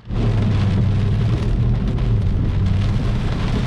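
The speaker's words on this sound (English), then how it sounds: "But it's raining." Heavy rain pounds a supercharged 5.7 R/T car in a downpour, a loud, dense and continuous drumming roar with no talk.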